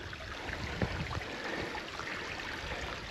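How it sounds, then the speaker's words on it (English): A small waterfall on Blood Mountain Creek, also known as Blood Mountain Creek Falls, rushes in a steady, broadband wash of falling water, close and continuous with no voices over it. "A little waterfall with various names. Blood Mountain Creek Falls."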